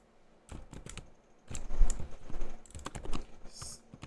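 Typing on an Ajazz AK680 keyboard fitted with Outemu switches: soft, muted keystrokes clicking in quick irregular bursts close by, quiet overall with no talk.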